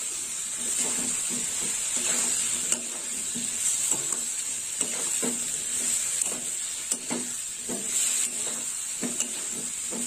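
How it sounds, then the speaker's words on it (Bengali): Taro pieces sautéing in a pan with cumin and turmeric powder: a steady bright sizzle runs throughout while a spoon scrapes and stirs in repeated soft strokes, close and alone. "এবার একটু কষিয়ে নেবো ভালো করে।"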